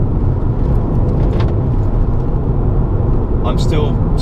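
SEAT Leon Cupra 300 hatchback driven hard, heard from inside as a loud, constant low road and engine roar with a faint squeak near the end.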